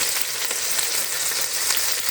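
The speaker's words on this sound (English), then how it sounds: "Okay, they're sizzling very nicely." Steady, loud sizzling of chevapi meat patties frying in a hot pan, a continuous crackling hiss with no talking.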